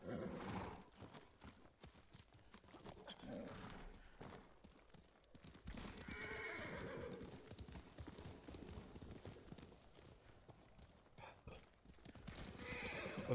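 Horse hooves clip-clop steadily while a horse neighs and whinnies in Ghost of Tsushima, a samurai-era open-world video game, set over ambient music and game effects, with someone talking intermittently.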